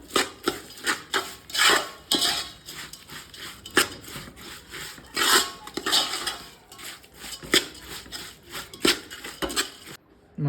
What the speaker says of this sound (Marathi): हे सगळं व्यवस्थित मिक्स करून घ्यायचं.